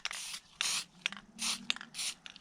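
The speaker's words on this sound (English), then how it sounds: "I'm just going to go ahead and spray what I can to try to get" A spray paint can hisses onto the letters of a wooden workshop sign in four short bursts, with brief clicks and rattles between them, close up and with no talk.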